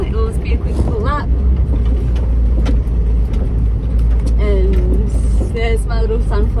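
Toyota Troop Carrier van driving in second gear, a steady loud low engine drone with continuous road rumble, and people talking over it throughout.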